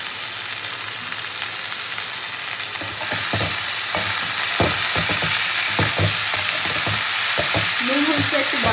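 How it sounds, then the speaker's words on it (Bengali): Onion, green chilli and red spinach sizzle steadily in a pan of hot oil, with a loud continuous frying hiss and repeated scraping stirs of a spatula, no voices. "পেঁয়াজ লঙ্কাটাও খুব ভালো করে ভাজা হয়ে গেছে, এবার ধুয়ে রাখা লাল শাকটা দিয়ে দেবো।"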